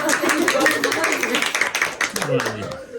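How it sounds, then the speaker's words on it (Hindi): Family members clapping together at a home dinner, a small group's quick, uneven claps at close range mixed with cheerful voices talking and exclaiming over them. "तालियां बजाओ जी, तालियां बजाओ जी।"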